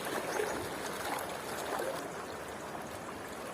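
A rural river flows steadily with a soft, continuous rush and faint trickling, distant and low in level, with no voices.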